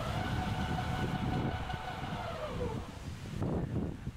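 A Coyote 4WD electric off-road vehicle's motor lets out a whine whose tones glide steadily downward over a dense rumble of rolling and ground noise, then the whine fades.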